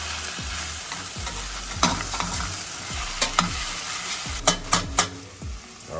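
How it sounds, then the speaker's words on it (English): Garlic frying in a pan is stirred around, a loud close sizzle under a regular rhythm of scraping strokes and sharp utensil taps against the pan, with no speech. "Whatever you do, keep moving that garlic around. You don't want it to burn."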